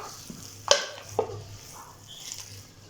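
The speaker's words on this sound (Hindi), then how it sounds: "अब मैं इसे अच्छे से मिक्स कर लूंगी हाथ की मदद से" Chicken shami kabab mixture being mixed by hand, with soft squelching and a couple of sharper clinks against the bowl over a low background hum, close and fairly quiet.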